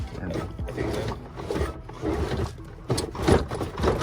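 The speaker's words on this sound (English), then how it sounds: "we finished up rolling up the fenders" Fenders on a lowered VW Golf GTI VR6 are rolled with a fender-rolling tool, giving a close, continuous rubbing and scraping grind that surges and eases in repeated strokes, with no talk.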